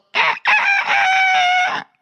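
A single loud rooster crow, close and clear, a short break early on then one long drawn-out call lasting nearly two seconds.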